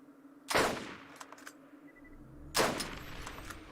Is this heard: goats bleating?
no